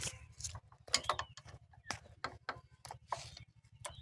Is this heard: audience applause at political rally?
no